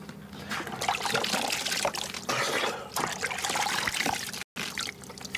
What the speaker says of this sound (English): gonna wash myself now, clean my teeth